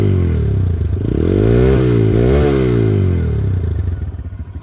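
A 2023 motorcycle with about 7,000 km on it and in showroom condition idles and is revved up and down, the engine pitch swelling and falling several times, loud and close, with no talk over it.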